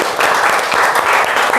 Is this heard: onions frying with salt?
no